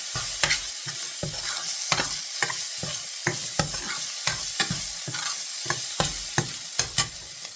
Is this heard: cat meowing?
no